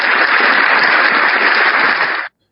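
An audience bursts into loud, dense clapping on request, a sustained even roar of many hands that stops abruptly near the end.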